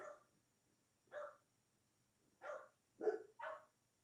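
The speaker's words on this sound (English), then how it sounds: "Did you just hear the dogs go up?" Dogs bark in the distance, five short, muffled barks in two bursts that are faint and set apart by quiet gaps.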